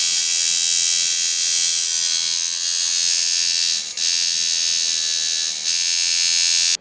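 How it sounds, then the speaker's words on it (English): A Vlad Blad Blacker Packer coil tattoo machine runs at 6 volts with a loud, steady high-pitched electric buzz held throughout, briefly dipping twice. "This is the blacker packer at 6 volts."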